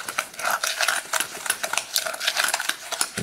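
Short ribs with seasoning are stirred in a pot, producing quick, rhythmic metallic scraping and clinking of a utensil against the pot, close and steady with no talk.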